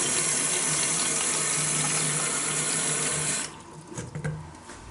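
Water runs steadily from a tap while being collected to water a terrarium, a bright continuous rush that stops abruptly near the end, followed by a few small drips and clinks.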